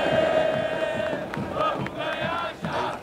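Chapecoense football supporters chant loudly and continuously as they arrive at the stadium for a Copa Sul-Americana match against San Lorenzo, a dense crowd of voices singing together with rhythmic shouts.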